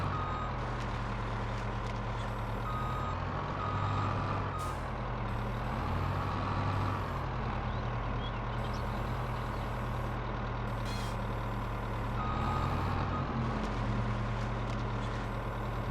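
Steady beeping of a vehicle backing up in Farming Simulator 22 over a constant engine drone, with a few louder bursts, continuing throughout without talk.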